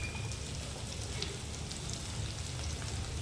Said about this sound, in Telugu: ఉల్లిపాయ వేసాక 2 నిమిషాలు వేగించుకుంటే సరిపోతుంది.